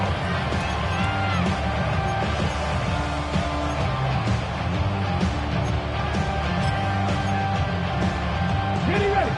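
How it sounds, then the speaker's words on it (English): Steady roar of a large stadium crowd at an NFL football game between the Rams and Seahawks, building on third down late in the game, loud and continuous across the whole stretch with faint chatter mixed in. "This crowd into it now as we get to third down."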